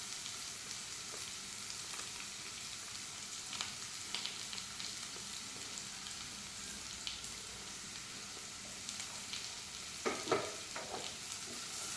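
Carrots and onions sauté in a pan with a steady, soft sizzle, and a spoon occasionally stirs and scrapes through the vegetables.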